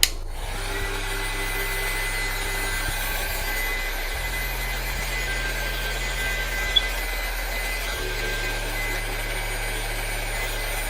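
Heat gun blowing hot air onto a shoe to remove creases, a continuous close airflow roar with steady hum and slight pitch shifts, alone without talk.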